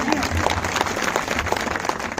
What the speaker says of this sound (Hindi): मेरी माताओं को एक बार जोर से तालियां बजा दीजिए